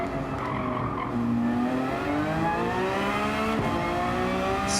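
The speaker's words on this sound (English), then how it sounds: "I hear cars going in the other direction." Race cars in a racing video game roar past in the opposite direction, their engine pitches sweeping and shifting over a continuous loud engine drone, with a brief sharp squeal near the end.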